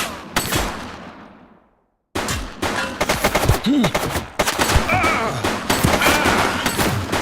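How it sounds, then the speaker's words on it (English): Rapid bursts of gunfire in the police video game The Precinct, loud and close, with repeated shots clustered into volleys, a brief silent gap early on, then dense continuous firing. "Shots fired!"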